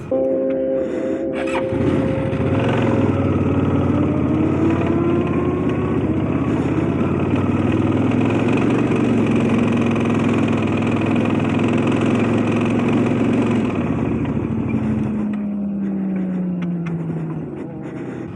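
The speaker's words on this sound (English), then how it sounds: "I refired the engine and it sounded like death." A damaged race car engine idles loudly and unevenly for a long stretch, knocking every rotation, its rough, labored drone holding steady before easing off near the end.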